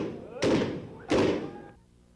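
Two loud, booming blasts from bacamarte blunderbusses fired during a June festival parade in Caruaru, about half a second apart, each with a sharp onset and a rolling decay, amid crowd noise.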